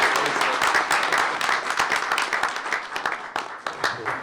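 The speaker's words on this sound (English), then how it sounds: "Let's give her a round of applause." An audience at a school board meeting claps in a dense, steady round of applause that thins out toward the end, with a few voices faintly audible underneath.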